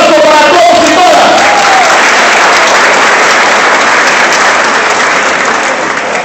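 Loud, sustained audience applause for guests at a federation event, a dense wash of many hands with some cheering and a brief voice near the start, slowly easing over six seconds.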